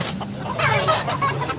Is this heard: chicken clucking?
yes